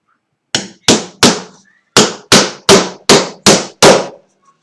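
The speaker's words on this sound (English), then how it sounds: "I am very bad at nailing" Nails hammered into wood by hand in a woodworking shop: eight sharp, loud, close strikes in an uneven rhythm, with a short pause after the first three, each blow ringing briefly before the next.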